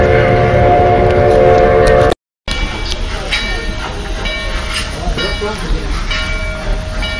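A Durango and Silverton steam locomotive backs out at a railfest. Loud rumbling rail noise comes with a sustained horn-like tone at first, then continuing clanks and hiss, with people talking nearby.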